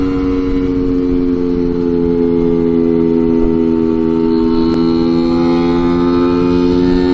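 A scooter engine pulling hard up a steep 12% mountain grade in southern Norway, held at high revs with a loud, steady whining drone that stays strong and even throughout.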